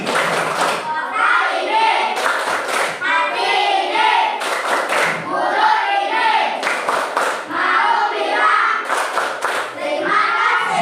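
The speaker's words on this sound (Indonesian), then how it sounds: "Tepuk terima kasih." A school class does a rhythmic thank-you clap, bursts of synchronized hand claps in a set pattern alternating with children's chanted voices, loud and close, repeating several times.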